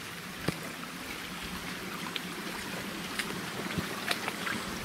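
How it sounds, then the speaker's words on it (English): Footsteps slosh through a shallow woodland stream, with scattered splashes and sloshes over a steady background of trickling water, fairly close. "Through the water, we'll go through the water here."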